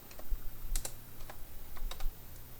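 Keys clatter as ipconfig is typed on a computer keyboard, a string of light, uneven clicks spread across a couple of seconds over a low steady hum, with no talking.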